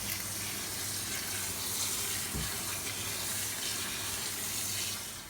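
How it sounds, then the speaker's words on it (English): Cooked beans, boiled down to mush, are rinsed under a running kitchen tap for a chili. Water pours in a steady, moderately loud stream from start to finish, with no voices. "we're going to wash them one more time"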